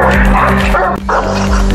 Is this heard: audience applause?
no